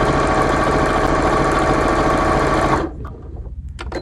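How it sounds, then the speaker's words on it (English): A sewing machine stitches a narrow channel for chenille fabric, running in a fast, steady mechanical whir for nearly three seconds before stopping, then a few faint clicks and snips follow. "I'm going to put the edge of my presser foot against that thread, that stitch that I had just sewn, and this is going to make just a small channel."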